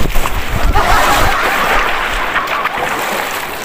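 Big ocean waves surging and washing onto a shore, a steady broad roar of surf with splashes, loud and close throughout.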